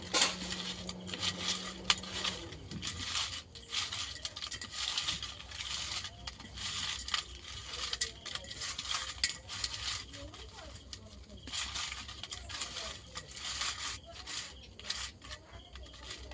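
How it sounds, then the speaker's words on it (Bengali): Live river shrimp being tossed by hand with salt and turmeric powder in a metal bowl, giving a steady run of close, wet clinks and scrapes that continue throughout with no talk. "লবণ দিয়ে দেবো মাছে, স্বাদ মতো লবণ, হলুদ গুঁড়ো, ভালো করে চিংড়ি মাছগুলো মিশিয়ে নেব।"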